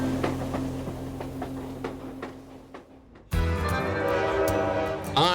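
The Canadian passenger train rolls from Vancouver through the Rocky Mountains toward Jasper, rhythmic clicks of wheels over rail joints and a steady rumble, then a louder, denser burst of rolling noise and rattling in the second half.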